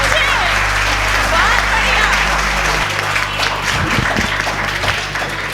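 A large crowd applauds loudly at a comedy poetry show, sustained close clapping with a low hum underneath and a few voices faintly audible toward the end.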